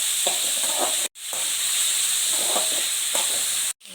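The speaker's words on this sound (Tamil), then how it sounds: "நல்லா வதக்கிக்கலாம். வதக்கணுன்னு நான் காட்டுறேன்" Vegetables with tomato sautéing in a hot pan for pasta, giving a steady close sizzle with stirring scrapes, broken by two brief silent gaps.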